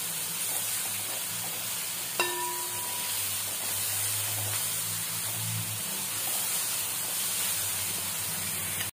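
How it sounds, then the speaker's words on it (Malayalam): Sliced onions sauté in a pan while mutton varattiyathu is being cooked, giving a steady close sizzle and frying crackle with a brief clink of a utensil. "സബോള നന്നായിട്ട് വഴണ്ട് വരട്ടെ."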